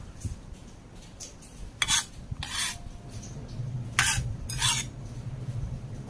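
Salted vegetables are mixed into tofu for tawkua, with close scraping and rubbing noises and a couple of sharper clinks of utensils against a bowl, coming in short bursts over a low background hum.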